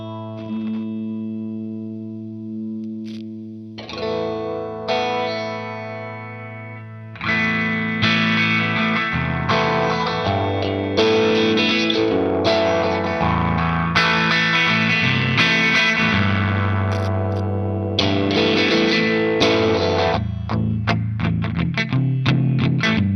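An electric guitar plays chords and picked notes through a phaser pedal, the swirling, whooshing tone moving steadily across sustained and strummed passages.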